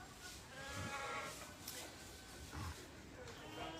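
Sheep and newborn lambs bleat repeatedly on a farm at lambing time, one lamb searching for milk, heard close up against a steady background under a person talking.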